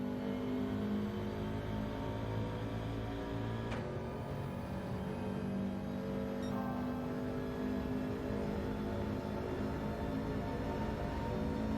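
A race car in the Gran Turismo 7 video game drones continuously as it downshifts into second and up into third, with a steady engine whine and a sharp gear-change moment partway through, no talk over it.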